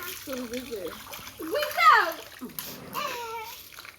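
Water splashes and sloshes as people dip and bathe, with children's and other voices chattering loudly over the splashing.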